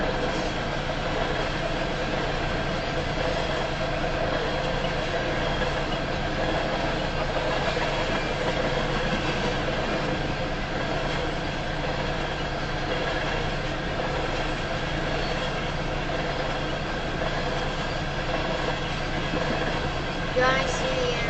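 A Union Pacific freight train made up of tank cars rolls southbound past the listener on a rural Iowa line, giving a steady, loud, continuous rumble and clatter with engine drone throughout and a brief knock near the end.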